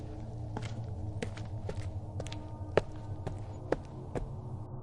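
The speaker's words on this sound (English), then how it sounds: "Then we heard loud footsteps walking around." Loud footsteps walking around inside a house, given as a run of sharp, separate thuds at an uneven pace over a low steady hum, two of the impacts noticeably heavier than the rest, with no speech.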